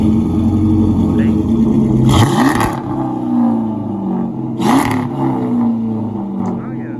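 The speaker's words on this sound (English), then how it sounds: "I want to show you a cold start with the new exhaust" Dodge Charger Hemi V8 cold start through SLP Loudmouth 1 mufflers with no catalytic converters, a loud deep idle rumble broken by two sharp revs, with a voice heard briefly over the engine.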